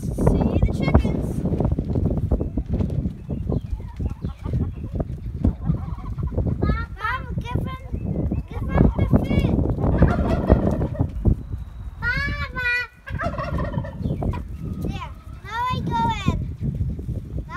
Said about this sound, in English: We're gonna let the chickens out now and give them some food.